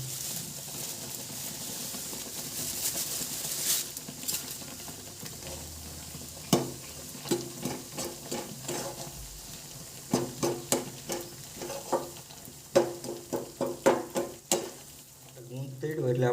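Flour roasting in desi ghee over a low flame for adadiya pak, a Gujarati sweet: a soft, steady sizzle that gives way to irregular sharp clicks and taps of stirring in the second half, fairly quiet and close, without talk.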